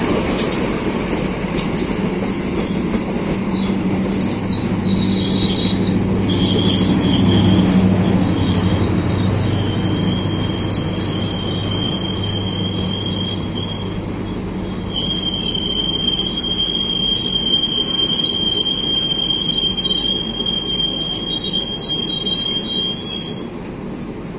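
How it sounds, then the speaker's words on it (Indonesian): The Serayu passenger train from Purwokerto to Pasar Senen rumbles past close by for the whole stretch, wheels squealing in long high metallic tones over a steady low roar. "Ini dia kereta api Serayu dari Purwokerto tujuan Pasar Senen KA 283."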